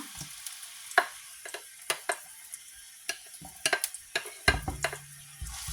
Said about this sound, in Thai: ใส่หอมกับกระเทียมลงไปนะคะเพื่อนๆค่ะ